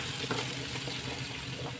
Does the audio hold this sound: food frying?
yes